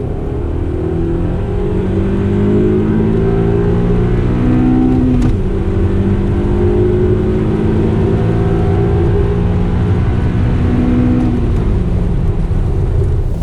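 A Honda Accord CL9 accelerates hard in a race, its loud engine note climbing through the revs with rising harmonic whine, shifting gears around the midpoint and pulling up again, close and continuous with no voices.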